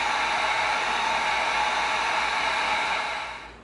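Heat gun blowing hot air onto EVA foam, a steady loud broadband whoosh that holds for a few seconds, then fades out as it shuts off.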